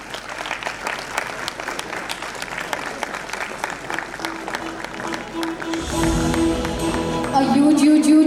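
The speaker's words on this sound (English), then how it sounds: "A huge round of applause, ladies and gentlemen, for this special segment." Applause fills the hall at The CSR Journal Awards 2024 ceremony, a large crowd clapping continuously and loudly, while music builds and grows stronger toward the end.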